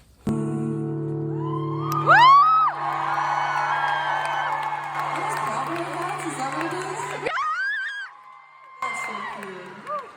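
A concert crowd on a tour cheers and screams loudly, with a sharp close yell rising above the din and music-like tones underneath.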